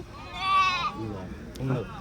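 A sheep at a Saturday-morning weekly sheep market in Angallu gives a loud, wavering bleat close by, followed by a shorter, lower call.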